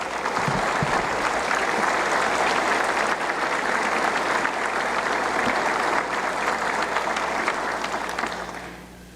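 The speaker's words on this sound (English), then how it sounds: "Let's give them a round of applause." A full room applauds during a governor's State of the State address, a loud, dense and steady round of clapping that holds for several seconds before tapering off at the end.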